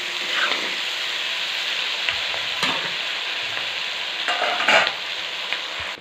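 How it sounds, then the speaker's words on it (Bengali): Capsicum being stir-fried for chilli chicken in a pan, a steady close sizzle with scraping stirs and a few louder clatters of the spatula, no talking. "ক্যাপসিকামটা দিয়ে দিলাম, দিয়ে নাড়তে থাকবো।"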